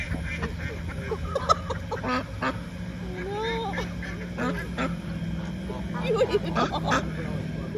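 Several ducks quack repeatedly in a busy, noisy outdoor setting at a barn attraction in Smithville, Ohio, their calls overlapping close by with some people talking in the background.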